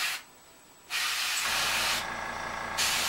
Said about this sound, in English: So I'm just going to spray some of this